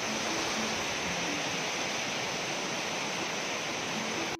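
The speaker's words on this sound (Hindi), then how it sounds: "ऊपर से गिरता हुआ पानी, नीचे बहती हुई नदी" Manthoka waterfall in Baltistan, water falling from height into a river below, a loud continuous roaring rush that stays constant and close throughout.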